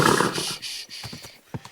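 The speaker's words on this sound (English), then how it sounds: "Easy, good horse." A horse neighs loudly at the start, followed by softer scattered thumps that could be hooves shifting nearby.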